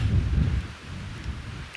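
Gusty wind roaring across an exposed Austrian mountain ridge above a lake, a steady low rumbling buffet close to the microphone with no talk.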